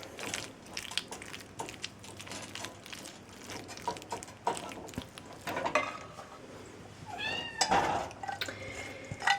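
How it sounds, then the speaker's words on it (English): Pet cat meowing in a home kitchen during cooking, a few short meows rising over clattering and mechanical rattling, fairly close but not loud. "The reason for the cat sounds is that after we lost the one"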